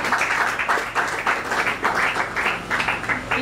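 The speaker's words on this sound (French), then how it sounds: "on applaudit quand même, non?" A crowd applauds throughout at a French panel event on women in politics and gender parity, a steady, dense clapping that stays at even loudness for the whole stretch.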